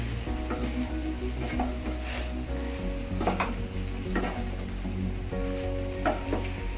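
Okra and potatoes frying dry in a pan while being stirred, a steady sizzle under repeated scraping and clinking of a spoon against the pan, with a constant low hum beneath, close up and with no voices.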